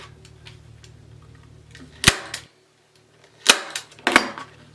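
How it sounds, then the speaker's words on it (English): Sharp staple gun shots fasten pipe cleaners to a sign on a fall mesh wreath, three loud snapping clacks spaced about a second apart over faint room hum, with no talking. "I'm going to add pipe cleaners with my staple gun."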